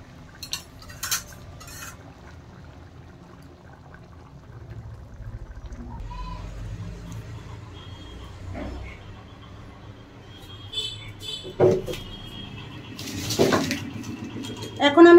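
A pot of egg curry is lifted off the stove with a few sharp metal clinks and scrapes near the end, faint stirring and kitchen noise before, and a voice heard at moments.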